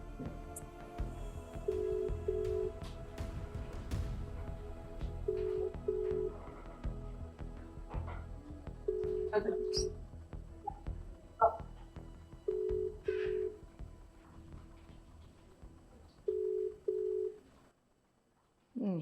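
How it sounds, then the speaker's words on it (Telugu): A WhatsApp call rings out as a ringback tone, a soft double burst repeating about every three and a half seconds over a quiet room with faint background murmur. "ఇది రింగ్ అవుతుంది, చూద్దాం"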